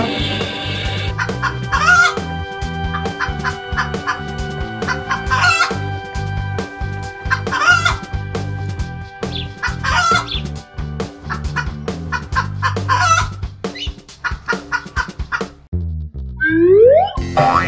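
Farmyard chickens cluck steadily in a dense, repetitive chorus while a rooster crows several times over them, close and loud, with no one talking.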